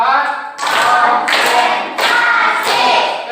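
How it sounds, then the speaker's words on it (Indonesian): Four evenly spaced, loud hand claps from a class of children in a counting clap routine, each a sharp broadband burst with a short room echo. "Tepuk 4."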